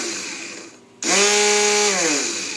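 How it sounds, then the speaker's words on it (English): A Black & Decker RTX rotary tool fitted with a diamond chainsaw file bit starts up after a brief lull, then holds a loud, steady high-pitched whine as its speed slowly drops at the end, with no talk. "Black & Decker RTX Dremel type deal."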